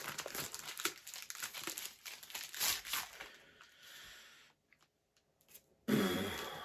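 Plastic packaging from a lost parcel being unwrapped by hand, close crinkling and tearing in quick bursts, a brief near-silent pause, then one last loud rustle.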